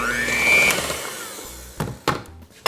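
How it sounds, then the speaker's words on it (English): A mixing bowl of sour cream chocolate cake batter, with sugar being added, rattles and knocks on a kitchen counter under a steady whirring mixer drone, with a few sharp clunks near the end. "if your bowl wants to run around the counter like mine's doing right now"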